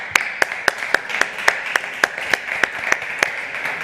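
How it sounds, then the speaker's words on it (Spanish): Regular, evenly spaced hand claps at a quantum technology panel debate, about four sharp claps a second, fairly loud and without speech. "les vamos a dar un fuerte aplauso a ellos tres"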